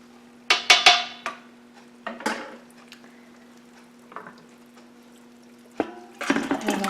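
Wort dripping and splashing from a lifted grain bag while homebrewing an oatmeal stout, with intermittent splashes and wet squishes over a steady low hum, mostly close and moderate in volume.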